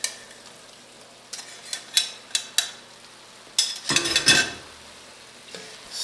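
Beef pieces stirred back into a red wine stew in a pot, with a low simmering sizzle under scattered sharp scrapes and clinks of a spoon against the pot, busiest in a cluster of knocks near the middle.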